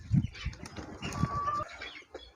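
Egg-laying hens in a small 10 by 12 foot coop give soft, low clucks and brief bird calls, a couple of louder bursts near the start among faint shuffling.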